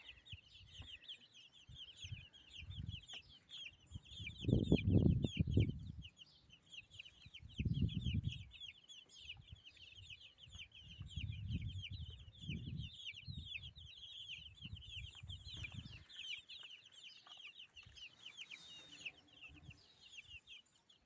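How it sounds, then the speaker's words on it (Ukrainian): Chickens clucking and a rooster calling nearby, with bursts of louder clucking amid a busy background of small birds chirping steadily. "Дуже красиві курочки, півники."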